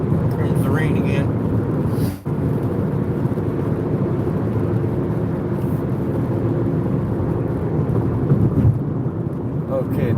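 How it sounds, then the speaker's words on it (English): Rain drums on a car during a drive near the Cle Elum River, a steady loud wash of road and rain noise with a deep rumbling undertone that holds constant, briefly dipping once. "Here comes the rain again."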